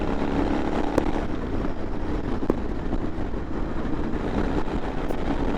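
A Royal Enfield Interceptor 650 motorcycle fitted with a Raptor exhaust, running with a continuous loud, rough engine drone and road rush, broken by a few brief sharp knocks, and no speech.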